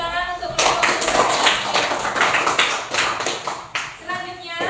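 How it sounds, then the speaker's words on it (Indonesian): A class gives applause for a group presentation, a burst of many hands clapping that begins after a short spoken line and fades as another voice returns near the end. "Kasih tepuk tangan untuk kelompok."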